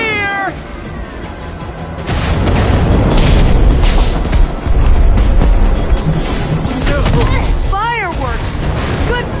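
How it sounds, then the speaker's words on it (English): Fireworks exploding in the game Minecraft Story Mode: loud, dense booms and crackling that fill several seconds, with high wailing, cat-like cries rising above the blasts before and after. "Fireworks!"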